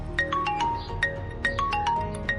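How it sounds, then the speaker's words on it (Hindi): A brother's phone ringtone plays in a television drama scene, a quick repeating melodic pattern of bright plucked notes over a soft hum, heard alone for a couple of seconds. "ये तो भाई का फोन है"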